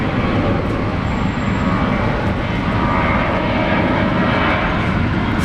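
A Qantas airliner departing Brisbane International Airport, a loud, steady jet engine roar that fills the whole stretch without letup, close and continuous with no talking.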